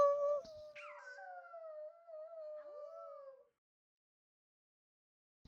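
A person at a reading event gives a sustained, wavering howl in imitation of a dog or wolf, close and clear for about three seconds before it stops into silence.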